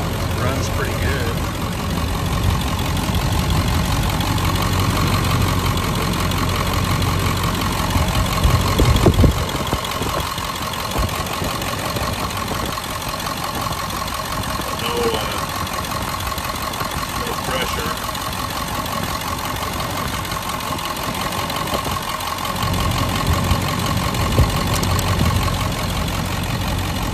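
A 2003 Ford F250 Super Duty XLT with a 7.3 diesel idles with a loud, steady low rumble and diesel clatter throughout, close by, while someone talks over it.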